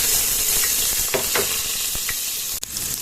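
Ginger sizzles in a small amount of oil in a pan, a close, continuous hiss with a few brief stirring clicks and scrapes and no voices.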